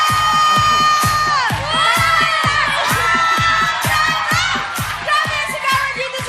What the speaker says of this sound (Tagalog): Grabe ang sigawan dito sa studio.